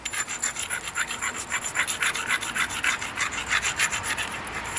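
An obsidian biface edge is ground during flint knapping, giving a close, loud, rhythmic rasping scrape with repeated back-and-forth strokes at a steady, fast pace.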